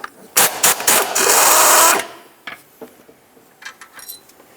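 Mounting bolts with 13mm heads come off the alternator of a 2006-10 Ford Explorer: a loud ratcheting whir lasting a couple of seconds, then scattered light metallic clinks and taps nearby.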